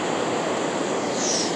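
Ocean surf washing onto a beach at night, a steady broadband roar of breaking waves and foam that holds constant and fairly loud throughout, with a slight swell near the end.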